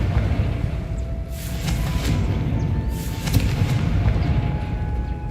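A Confringo blasting spell from Hogwarts Legacy bursts with booming blasts around the middle, a couple of sharp explosive hits over a constant rumbling background, fairly loud and close.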